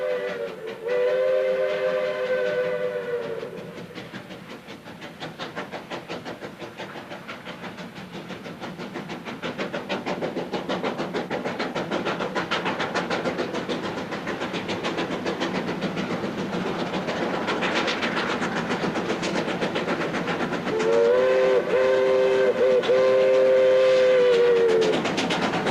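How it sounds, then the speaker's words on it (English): A steam train rumbles and clatters past on a new section of line near Riobamba, Ecuador, loud and continuous, with a shrill whistle blowing at the start and again near the end. "this is the first ever steam-hauled train over the new section of the line"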